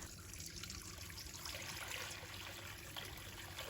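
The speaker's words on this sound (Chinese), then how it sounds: "我们倒入适量的清水" Clear water streams steadily into a pot of fried spices for cooking edamame, a continuous close splashing pour with no pauses.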